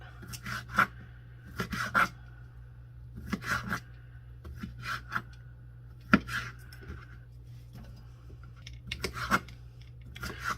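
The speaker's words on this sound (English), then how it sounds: "Just cut it into little slices." A knife slicing potatoes into little slices on a cutting board, crisp chopping taps falling in small clusters of two or three with short pauses between, close and clear over a low steady hum.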